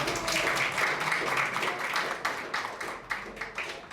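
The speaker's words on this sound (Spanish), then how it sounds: "Un aplauso." A church congregation claps for a founding member during a service, with dense, fairly loud applause that thins out toward the end into separate, sharper claps.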